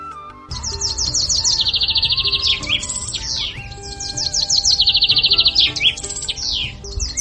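Small bird chirping in rapid, high trilling bursts that repeat in two similar phrases, close and clear over soft background music.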